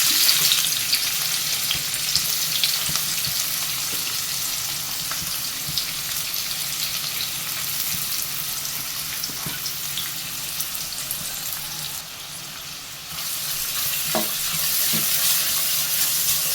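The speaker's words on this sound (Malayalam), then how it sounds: "എണ്ണ ചൂടായിട്ടുണ്ട് എണ്ണയിലേക്ക് നമുക്ക് സവാള അരിഞ്ഞു വെച്ചത് ഇട്ട് കൊടുക്കാം" Thinly sliced onions fry in hot oil with a loud, dense, continuous sizzle and crackle, close up, dipping briefly before picking up again, with a few small clinks.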